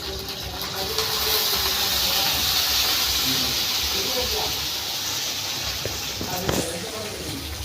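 Tomato paste poured into hot oil for tempering a pepper rasam, giving a loud, steady hissing sizzle that holds evenly throughout.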